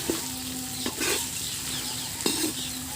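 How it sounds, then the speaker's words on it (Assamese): Meat curry, likely chicken, stirred in a pot over a wood-fire clay stove: a steady sizzle with two distinct scraping strokes of the spoon against the pot, close and moderately loud, with no voices. "মই মাংসখিনি এতিয়া লৰাই দিম।"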